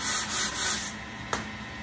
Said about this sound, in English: take a piece of sandpaper, you know, obviously, and finish it up like that